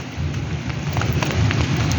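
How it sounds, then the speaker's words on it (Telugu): Heavy rain pours down steadily in a thunderstorm, a dense, continuous hiss with low rumbling thunder underneath, loud and close throughout with no voices. "వర్షంలో ఇట్లా కామె చూడండి, గట్టి వర్షం పడుతుందా."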